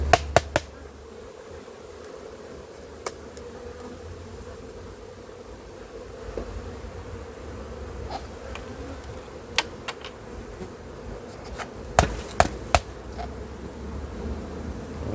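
Honeybees hum in a steady, low drone while a hive frame is shaken out over the open hive during beekeeping work. A few sharp knocks come through, and nobody speaks.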